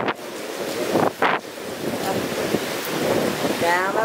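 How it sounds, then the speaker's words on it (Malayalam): Strong gusts buffet a camera microphone outdoors near the Grand Hyatt Kochi waterfront, with heavy rumbling bursts early on and then a steady roar, along with faint surf-like wash. "നല്ല കാറ്റുണ്ട് ഇവിടെ"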